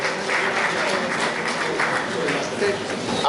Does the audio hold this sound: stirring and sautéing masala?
no